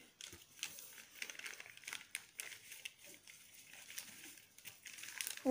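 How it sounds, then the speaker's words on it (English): Paper being creased and folded by hand into an origami flasher, giving close, soft crinkling and rustling in irregular bursts, with no talking. "Hold on and find this middle crease and fold it up like this."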